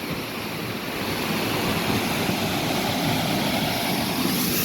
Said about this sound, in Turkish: Şu an şelaleye en yakın noktadayım.